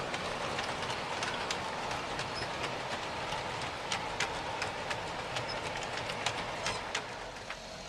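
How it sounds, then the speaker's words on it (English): A 63-car model train led by three Aristocraft GP40 locomotives with stainless steel wheels rolls around a layout bay, giving a steady rumble with a repeating clickety-clack of wheels over rail joints and sharp metallic ticks, no voices. "This is the 63 car train coming around my west bay. 3 GP40s on the front, Aristocraft brand, retrofitted with stainless steel wheels I had made"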